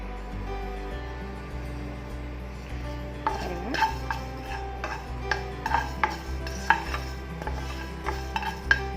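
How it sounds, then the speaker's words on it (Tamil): Spices for sukku coffee being dry roasted in a pan, with light scraping and clinking of a spoon stirring against the pan in an irregular rhythm over a low steady hum, close and moderately loud, no voices. "நல்லா ட்ரை ரோஸ்ட் பண்ணி எடுத்துக்கலாம்."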